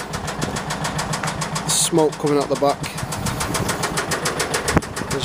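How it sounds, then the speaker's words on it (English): Vauxhall Vivaro van engine running with a rapid, regular knocking beat from a faulty piston, steady throughout at close range while someone talks over it. "As you can hear the engine. It's a piston."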